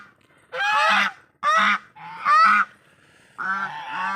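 Large and small ducks kept on a village farm give four close, loud honking calls, each about half a second long, separated by short pauses.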